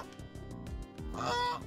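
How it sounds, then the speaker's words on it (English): Cartoonish goose honks from the Mighty Goose video game: a few short nasal honks in quick succession, ending in a louder, longer squawk, fairly quiet and alone without talk. "What is a goose game without a honk sound effect?"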